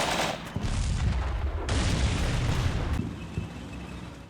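Artillery fire for effect in the Combat Mission Cold War video game gives a continuous dense rumble of booms and gunfire that shifts in texture partway through, with no voices.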